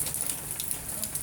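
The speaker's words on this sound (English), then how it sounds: "I want to get the shutters down, but it's raining right now" Steady rain from Tropical Storm Eta pours down in South Florida, a dense, continuous hiss of drops pattering on surfaces close by, with no other sounds.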